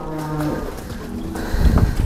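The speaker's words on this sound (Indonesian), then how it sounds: "Sapi si Wowo masuk kandang." Cattle being led into a pen give a low moo amid shuffling and farmyard noise, with a louder, heavier burst of movement near the end.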